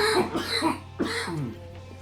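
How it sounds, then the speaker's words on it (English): A few close, raspy coughs and throat clearings in quick succession, loud and harsh. "now that I got the coughs out of my system"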